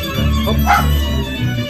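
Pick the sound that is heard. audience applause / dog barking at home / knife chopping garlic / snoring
dog barking at home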